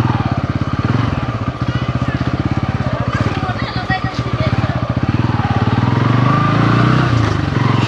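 A motorcycle rides into Bhimkund in Keonjhar, Odisha along an inner path, its engine chugging with a rapid, steady putter close by, loud throughout, with a rider talking over it.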